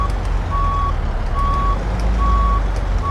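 Truck reversing beeper in Euro Truck Simulator 2 while backing a trailer: steady evenly spaced beeps, four across the span, over a constant low engine rumble with no talking.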